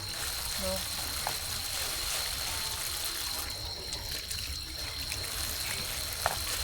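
A cucumber rinsed under a running tap on a farm, water hissing steadily and close throughout, with a few faint knocks and background voices talking over it.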